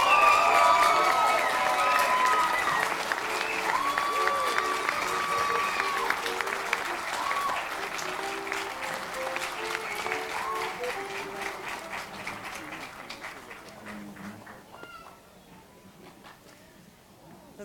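A banquet hall audience at a 2018 athletics Hall of Fame dinner gives sustained applause for inductee Edwin E. Ortiz. It starts strong, slowly thins and fades over about seventeen seconds, with voices and cheers mixed in.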